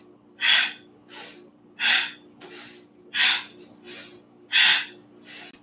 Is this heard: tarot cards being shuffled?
no